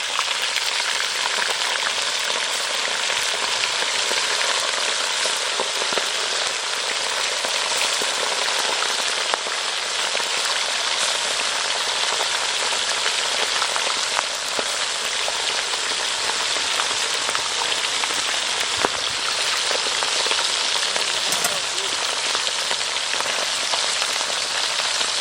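Pieces of fish fry in hot oil in a pan, giving a steady, dense sizzle that runs unbroken throughout with small crackles and pops and no talking.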